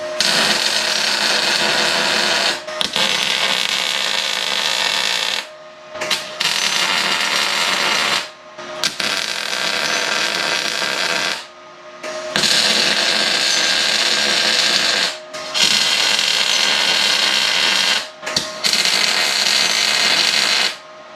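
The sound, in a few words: welder tack-welding a scrap metal press brake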